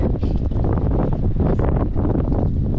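Strong wind blows outdoors, a constant loud rumbling roar that buffets the microphone throughout with no clear pauses.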